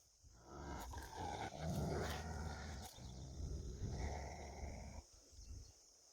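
A dog growls low and steadily for several seconds, close by, with a brief pause before the rumbling resumes.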